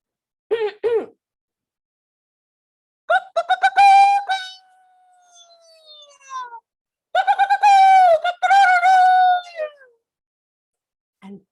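A human voice imitates a rooster's crow in a few drawn-out, wavering calls separated by pauses, loud and close.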